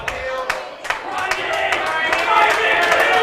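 Crowd at an 8-ball pool match breaking into applause after a shot, scattered claps building into steady clapping and murmuring that grows louder across the few seconds.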